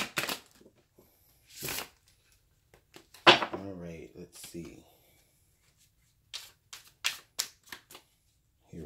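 Tarot cards shuffled by hand in a few short papery bursts, separated by pauses, with a person speaking briefly in between.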